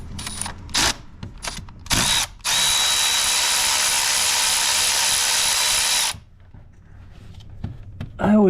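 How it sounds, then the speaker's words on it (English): A power socket tool whirs in short bursts, then runs steadily for several seconds while removing a spark plug from a Ford Raptor engine, followed by quieter clicks and handling noises. "stick a socket in there and remove the spark plug"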